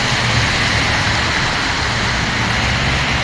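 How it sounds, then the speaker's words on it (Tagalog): A sudden heavy downpour roars loud and close as a dense, unbroken hiss with a low rumble underneath, steady throughout with no voices. "Biglang bumuhos yung ulan."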